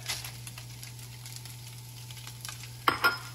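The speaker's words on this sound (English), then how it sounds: "you can see that's brown and nice and sizzling away" Soft, steady sizzling of onion and celery frying in a pan, a low crackle with a hum underneath and a brief clatter near the end.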